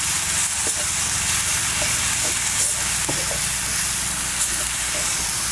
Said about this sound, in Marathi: मसाला परतून घ्यायचा